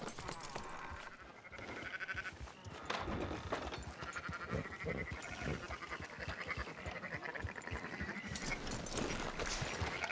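Sheep bleat repeatedly in Red Dead Redemption 2 gameplay, several animals calling close by over a low game background with soft hoof clatter, and no talk is heard.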